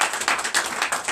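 A church congregation at a Sunday service claps in a brief, fairly rhythmic burst of hand claps, moderately close, lasting about a second.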